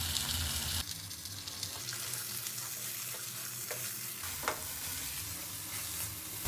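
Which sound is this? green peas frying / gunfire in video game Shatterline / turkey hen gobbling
green peas frying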